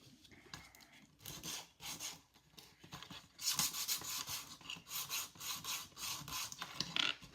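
Short bursts of scraping as a file rasps against a model train wagon held steady on the bench, coming in uneven strokes with brief pauses, close and fairly quiet.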